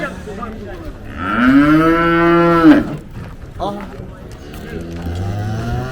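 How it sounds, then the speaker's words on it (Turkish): A cow moos loudly and close by at a livestock market in Tuzla, Istanbul, a long drawn-out call lasting over a second amid market background noise. "Bu inek neci garip?"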